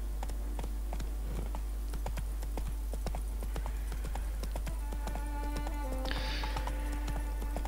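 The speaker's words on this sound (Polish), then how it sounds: "Gameplay w grze Wiedźmin 3 Dziki Gon to nie tylko walka w zwarciu, ale również jazda konno." Horse hooves galloping in The Witcher 3: Wild Hunt, a steady rapid clip-clop beat running throughout under a low constant hum, with a faint brief whinny-like tone near the end.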